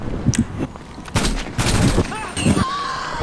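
Video game gunfire crackles in rapid bursts and volleys, loud and close. A player shouts excitedly over the shooting.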